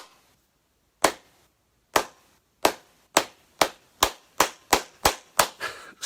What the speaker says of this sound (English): Slow clap for him.